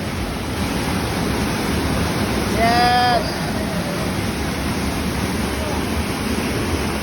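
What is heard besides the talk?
Niagara Falls waterfall roaring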